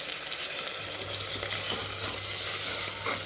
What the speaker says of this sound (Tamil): நல்லா கலந்து விட்டு தக்காளி பழமும் நல்லா வதங்கிக்கணும்.